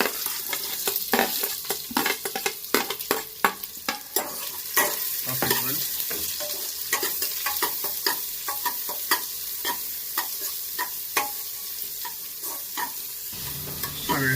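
Chopped onion fries in oil in a pan for avarekai pulav, with a constant close sizzle broken by rapid, irregular clinks and scrapes from stirring.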